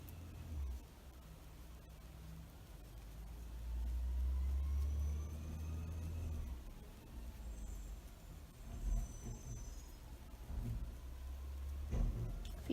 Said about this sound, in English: If you hear something outside, it's the garbage trucks picking up the trash.